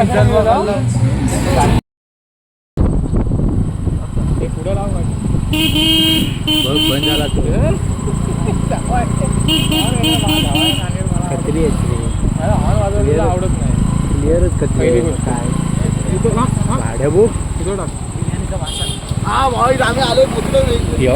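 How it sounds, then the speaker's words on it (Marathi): Cars and motorcycles arriving at a birthday celebration, engines rumbling nearby with several short horn blasts, while people talk loudly over the traffic noise throughout. "एवढ्या गाड्या आल्या आहेत"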